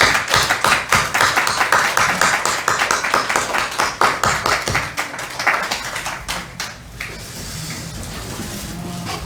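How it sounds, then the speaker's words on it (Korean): Lively clapping from a church congregation during a Sunday service, loud and rhythmic at first, thinning out and fading toward the end. "우리 나올 때 박수로 한 번 더."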